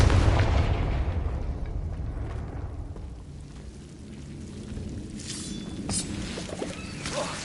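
A deep, rumbling blast from a Confringo spell in Hogwarts Legacy booms loudly at the start, then decays into a long low rumble with faint crackles and small pops afterward.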